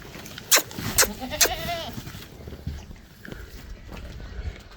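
Goats bleat in a village in South Punjab, Pakistan: three loud, close calls in the first second and a half, followed by quieter rustling and outdoor background.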